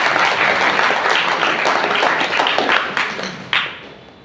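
A church congregation at a Thanksgiving service applauds loudly, a dense wash of many hands clapping that fades out toward the end with a few final claps.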